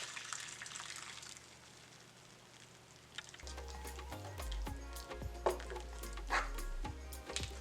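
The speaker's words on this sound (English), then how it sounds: "pour it into our mango mixture. And I'm using a strainer to strain this off" Hot syrup poured through a strainer into a mango mixture, a trickling liquid pour that grows busier after a quiet start with faint clinks, close and moderately quiet, no voices.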